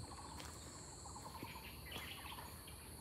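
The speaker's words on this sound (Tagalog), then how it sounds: "Iba't ibang huni ng ibon." Outdoor forest ambience in Tianzhong Forest Park, Tianzhong Township, with steady insect buzzing and scattered bird chirps and calls, moderately faint, no talking.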